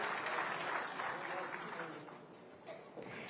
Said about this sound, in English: a thunderous round of applause for these incredibly talented artists